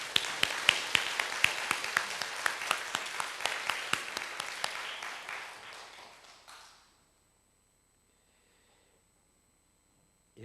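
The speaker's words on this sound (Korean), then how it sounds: "수고하신 분들을 위해서 한번 박수로" A church congregation applauds after a service, with steady clapping from a crowd and sharp claps standing out, fading away over several seconds into silence.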